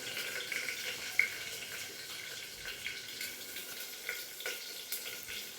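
Mustard seeds and cumin sizzling steadily in hot oil, a soft continuous crackle at low level with a few small pops throughout, no voices.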